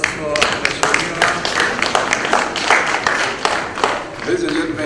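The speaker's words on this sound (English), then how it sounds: "Another round of applause for Mheshimiwa." Round of applause for a dignitary at the official launch of the new Kisumu Social Centre in Kenya, a dense crowd clapping steadily for about five seconds with some voices mixed in.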